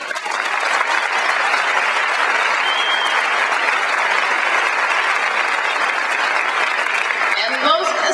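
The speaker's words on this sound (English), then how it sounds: "you deserve yet another round of applause" Commencement crowd at a university graduation gives a sustained round of applause, thick and even clapping from a large audience held for several seconds, with a faint voice near the end.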